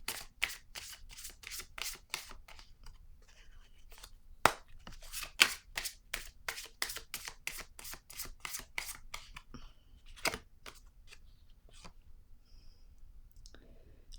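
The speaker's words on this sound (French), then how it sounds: "Je vais déposer une carte rose." Tarot cards handled and laid down on a table produce a long series of crisp, close, papery slaps and flicks in an uneven rhythm, with brief quieter pauses between.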